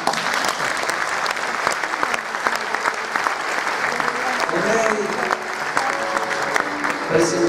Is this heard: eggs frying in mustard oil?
no